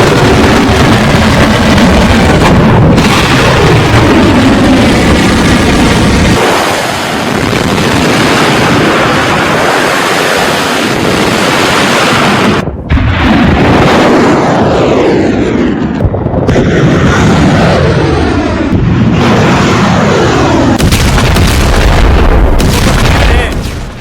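Missile strikes and heavy explosions in an attack on Iran: loud, continuous deep booms and rumbling blasts with jet-like roar, several sharp detonations standing out across a dense, sustained wall of sound.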